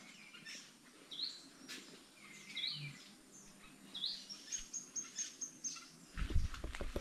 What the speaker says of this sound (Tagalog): Ang gandang ibon.